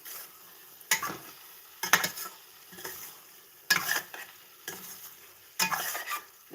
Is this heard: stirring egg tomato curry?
yes